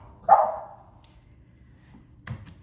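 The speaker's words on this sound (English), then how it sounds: "my dog is barking" A dog barks once, fairly loud and near, in a quiet indoor room, followed by a fainter second sound a couple of seconds later.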